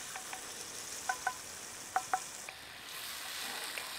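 Chopped onions frying in fat in a pan during preparation of rigatoni with salsiccia and savoy cabbage, a steady soft sizzle with a few sharp clicks, close and fairly quiet, no talking.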